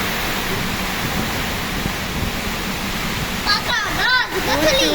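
Heavy rain and strong wind from a Kalbaishakhi storm roar as a steady, loud wash of noise, with a brief voice and rustling toward the end.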